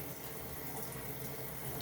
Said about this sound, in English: Let me get some water running because I'm going to need to rinse my hands shortly.